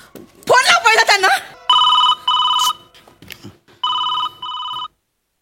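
A telephone rings in a comedy stage sketch: two double-burst electronic rings, fairly loud and close, following a stretch of someone talking at the start.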